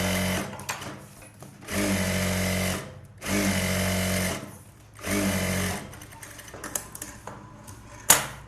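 A sewing machine stitches an Aari work blouse in several loud, close bursts of fast mechanical whirring, separated by short pauses, ending with a sharp click.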